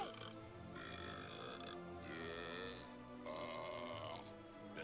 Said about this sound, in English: I'm gonna belch in his face.